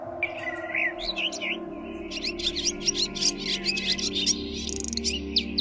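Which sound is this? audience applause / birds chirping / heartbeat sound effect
birds chirping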